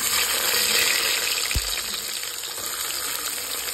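Onions frying in hot oil for a mutton curry, a loud, dense hiss of sizzling that stays steady from start to finish, with one soft thump partway through.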